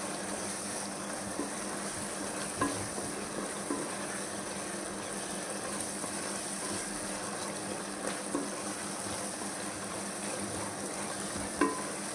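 Mutton pieces frying in oil in a pan give a steady close crackling sizzle throughout, with a few soft clinks of stirring and no talk.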